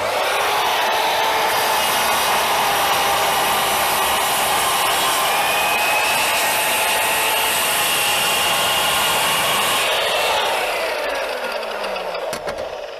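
A GTM sliding miter saw with a motor rated over 2 kW and no soft start runs steadily while cutting wood, a loud sustained whine for about ten seconds that then trails off as the motor winds down.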